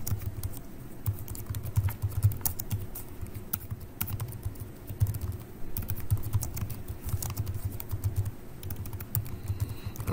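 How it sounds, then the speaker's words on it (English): Rapid clicking of keys on a computer keyboard, steady bursts of typing close by with short pauses between runs. "I'm very good at typing, just not when anyone's watching."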